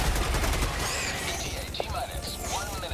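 Three sentry turrets in Helldivers 2 fire a dense, continuous barrage of rapid shots, loud and close, with mechanical clatter and brief whistles layered over the gunfire.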